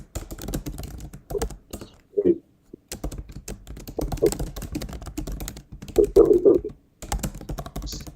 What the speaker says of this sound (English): I'll try typing something into the chat